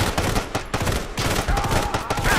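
Rapid bursts of gunfire in the mobile shooter Sniper Fury, dense and continuous, crackling loudly for a couple of seconds with little pause.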